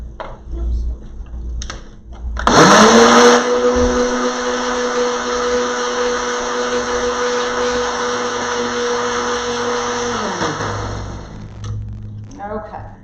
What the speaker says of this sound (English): Blend it one more time.